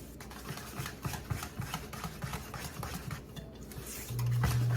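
Lemon bar ingredients being stirred in a bowl, with a quick irregular run of light clinks and scrapes of utensil on the bowl, fairly close and soft, ending in a steadier low whir.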